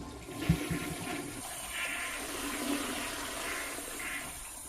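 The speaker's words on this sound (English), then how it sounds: "Yeah, I think we could flush this one down the toilet." A toilet flushes, starting with a short clunk of the handle and then a steady rushing swirl of water that stays fairly quiet and even throughout.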